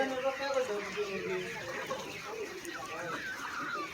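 A flock of chickens clucks and squawks while being loaded into a cage, a busy overlapping chorus of close, chattering calls that continues throughout.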